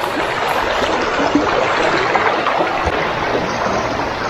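A shallow river flows from the mountains down toward the sea near a beach in Palawan, making a steady close rushing and trickling sound with no voices.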